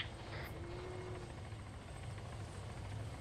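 A helicopter in a police-patrol roleplay game gives off a steady, continuous rotor and engine drone, moderately close and unbroken throughout.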